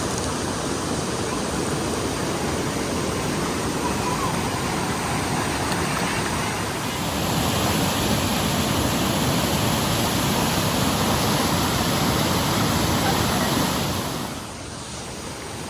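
Continuous broadband roar of a waterfall along a forested hiking trail, loud and steady, swelling a little louder midway before easing off near the end, with no clear talk over it.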